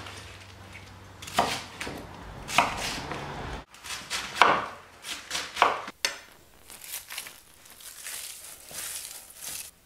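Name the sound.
knife chopping purple and green cabbage into strips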